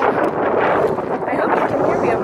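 Wind buffeting a microphone outdoors, a continuous loud rumble and roar filling the whole stretch, with a voice partly buried beneath it.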